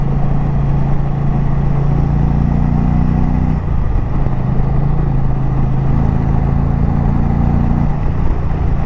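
A motorcycle engine switched into sport mode pulls hard under steady throttle, a loud continuous drone heard up close with wind rush, a brief dip near the middle before the pull resumes.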